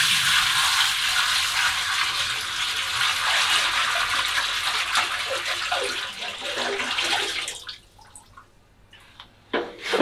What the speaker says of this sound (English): We now tip out the rest.